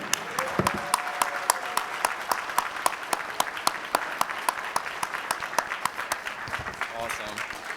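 A breakfast crowd at a mayor's annual men's event applauds Mayor Ras J. Baraka with sustained, dense clapping that holds steady throughout, sharp individual claps standing out near the front over a broad wash of hands.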